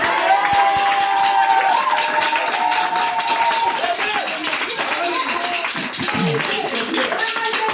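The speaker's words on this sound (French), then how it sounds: "Acclamez pour vous-même." Church congregation cheering and clapping loudly, a dense wash of applause and shouts with a singing or exclaiming voice rising over it.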